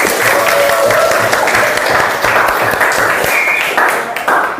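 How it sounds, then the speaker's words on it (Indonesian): A high school class applauding the first, second and third place quiz winners during an Indonesian language lesson, sustained loud clapping from many hands filling the room without pause. "Beri tepuk tangan"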